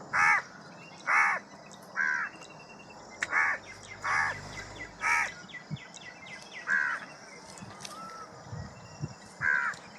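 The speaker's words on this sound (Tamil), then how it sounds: "காக்கா எதுக்கு மாட்டை வம்பு?" A crow caws beside a Jersey dairy cow, giving around ten loud, evenly spaced caws over ten seconds against a faint outdoor background of insects.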